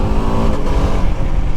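A BMW F 450 GS motorcycle engine pulls hard under acceleration, loud and close, with a dense, rising rasp that holds steady and is heard alone.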